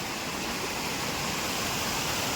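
A rain-swollen river flows beside a campsite, a steady broadband rush of water heard close and continuous without any voices.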